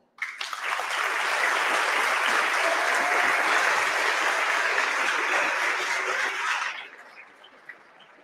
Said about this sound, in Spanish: Recibámoslos con un fuerte aplauso.